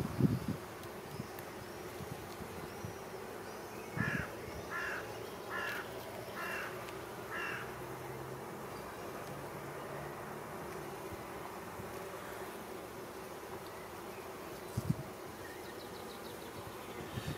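Honeybees inside an open hive hum with a faint, steady buzz. A short series of distinct piping toots rises above it, and outdoor background sounds and a crow's caw can be heard.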